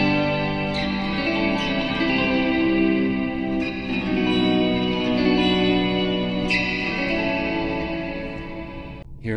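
An electric guitar plays through a cheap homemade ambient pedal with no reverse reverb. Several strummed chords ring out with lush chorus and reverb tails, each new strum layering over the last, before fading near the end.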